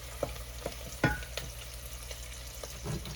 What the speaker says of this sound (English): So, see, I'm just sauteing it.